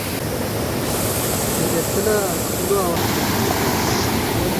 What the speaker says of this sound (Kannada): ಜಲಪಾತಕ್ಕೆ ಬಂದಿದ್ದೇವೆ ಸ್ನೇಹಿತರೆ